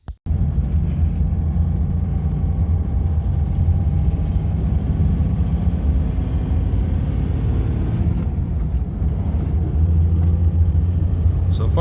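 A 2004 Dodge Ram with a 5.9L Cummins diesel drives along after an accelerator pedal sensor repair, a steady loud low engine rumble heard from inside the cab throughout.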